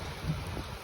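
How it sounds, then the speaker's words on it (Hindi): Heavy rain pours steadily in a dense, continuous broadband wash, close and fairly loud, with no voices over it. "देख लो भाई, इतनी भयंकर बारिश हो रही है।"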